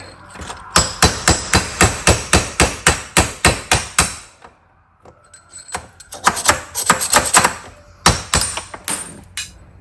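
Repeated sharp metal hammer blows knock out the bottom bearing on a John Deere D170 lawn tractor, a fast steady run of about fourteen close strikes, a pause, then more bursts of blows.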